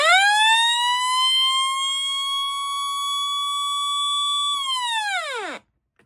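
A weather alert radio blares a loud, steady electronic alert tone with rich harmonics for about five seconds, then the pitch sags and dies away abruptly before a short silence.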